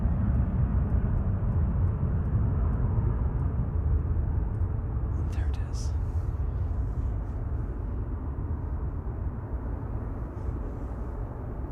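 A Qatar Boeing 777 departs Manchester Airport, its jet engines a steady, low, broad roar heard from a distance that holds throughout and fades slightly toward the end.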